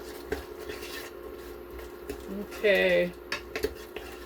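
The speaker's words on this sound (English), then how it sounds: "The spices are mixed in." A spoon scrapes and clinks against a metal pot while tomato paste and spices are stirred into chickpeas, soft intermittent taps followed by a brief louder grating scrape, with a quick spoken word.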